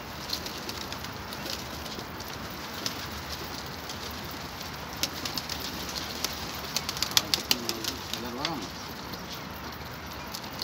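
Pigeons cooing softly amid a noisy rooftop loft setting, low repeated coos under someone talking, with scattered clicks and flutters.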